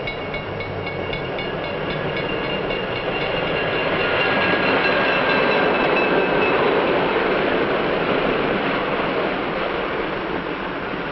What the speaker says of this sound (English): the train is approaching a station